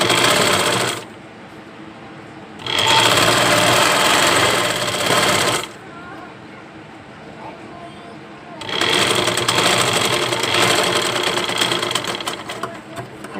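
A sewing machine stitches the sleeves of a silk garment with invisible-thread piping, humming in two long, loud runs separated by a quieter pause, close to the listener.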